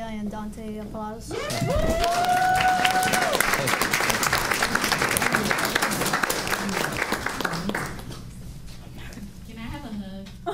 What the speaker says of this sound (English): And can we have Lydia and Dante applause?